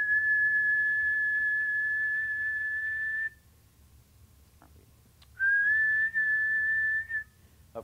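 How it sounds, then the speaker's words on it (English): A person whistles a single steady high tone for about three seconds, breaks off into near silence with a couple of small clicks, then whistles the same tone again, clear and close. "All right, so whistle loud again."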